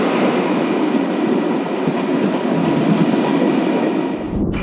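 Sprinter train at platform 5B of a station in the Netherlands, having just stopped: a loud, continuous rumble of carriages with a faint rhythmic clatter, close by and steady, easing off near the end.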